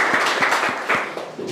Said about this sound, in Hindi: चलिए गुड, ताली बजा दीजिए।